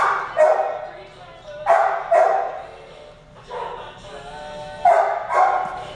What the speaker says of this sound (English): Pretty typical small dog.